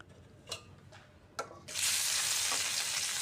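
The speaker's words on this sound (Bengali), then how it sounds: "এই যে এখন আমি রুই মাছটা ভেজে নেব।" Salted, turmeric-coated rohu fish pieces drop into hot oil with a couple of sharp knocks, then burst into a loud, steady close sizzle that fills the rest of the moment.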